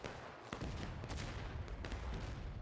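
Musket volleys in the War of Rights video game, a dense, continuous crackle of distant gunfire with several sharper nearer shots standing out.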